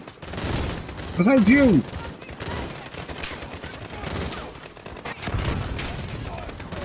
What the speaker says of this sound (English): Where's the shots coming from?